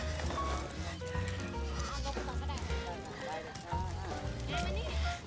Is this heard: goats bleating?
yes